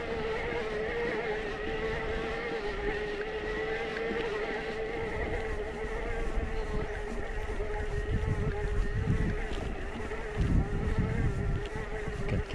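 A quad bike engine buzzes in the distance across open mountain terrain near the Gourette ski area, a steady droning whine with faint rumbling bursts toward the end and no talk.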